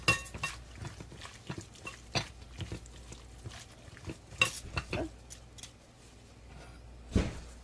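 Chicken mixed with garlic and spices in a bowl, a close series of irregular clinks and scrapes of a utensil against the bowl, with brief pauses between strokes.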